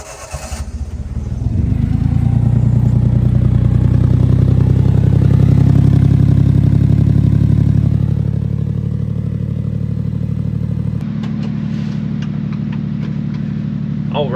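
A 1994 Honda Acty's small engine cranks and catches, then settles into a steady, close, buzzy idle with a light mechanical clatter, dropping slightly in pitch partway through as a voice speaks briefly near the end.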